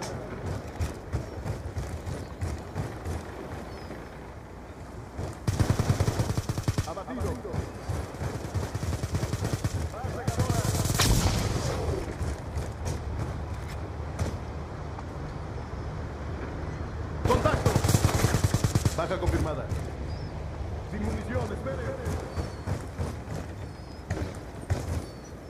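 Bursts of automatic gunfire in Black Ops 2 multiplayer on PS3, loud volleys around 6, 11 and 18 seconds over a steady bed of game noise, with a voice speaking between the shots.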